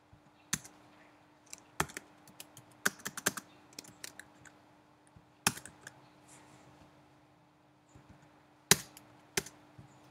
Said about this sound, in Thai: เดี๋ยวผมขอพิมพ์ก่อนละกันนะครับ